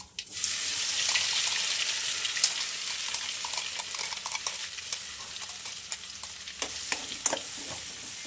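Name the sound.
stirring ground coconut with mustard seeds and cumin in a pan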